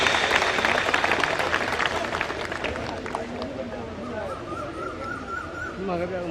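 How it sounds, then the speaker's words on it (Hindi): Crowd applause at a felicitation ceremony in Mumbai, a steady dense wash of clapping that thins out, with a voice speaking over it. "जोरदार तालियों से अभिवादन कीजिए"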